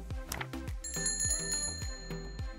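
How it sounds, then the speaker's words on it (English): A bright bell rings repeatedly in quick succession, sharp metallic dings with lingering tones, close and clear. "The bell rang for the next run"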